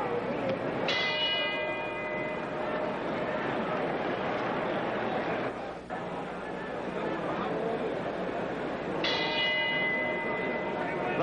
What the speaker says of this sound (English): The bell for round eight.